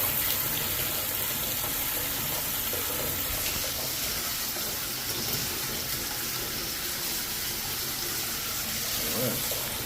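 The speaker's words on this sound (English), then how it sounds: "Try out this spray wand here." Steady hissing spray of running water from a bathtub spray wand, loud and constant throughout, with faint clatter underneath.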